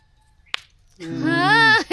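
A sodakku thakkali fruit gives a single sharp snapping pop among tomato plants in a garden, one quick crack standing alone before a person starts talking.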